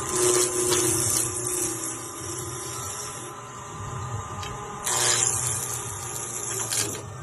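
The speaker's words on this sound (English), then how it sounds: "I'm going to rough it out with my round skew chisel" Wood lathe roughing down a spinning blank with a round skew chisel, giving a steady rasping, rubbing scrape with hum underneath and louder surges of cutting near the start, middle and end.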